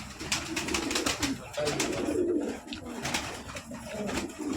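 Several pigeons cooing continuously and close together while feeding on wheat and millet grain, a dense low warbling chorus with light pecking and fluttering noises mixed in.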